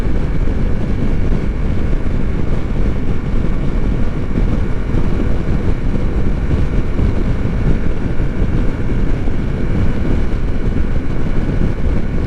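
A Ducati Multistrada V4S motorcycle underway, a dense continuous engine roar mixed with heavy wind rush, steady and loud throughout with no talk.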